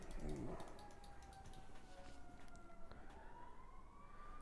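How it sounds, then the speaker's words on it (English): An ambulance siren passes outside, its wailing tone rising and falling, faint and distant beneath a quiet indoor room with light typing and a brief voice. "ignore the ambulance"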